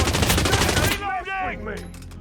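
Rapid bursts of loud, close gunfire fill the first second in the Hitman: World of Assassination stealth game, cutting off abruptly as a shouting voice and fainter in-game sounds take over.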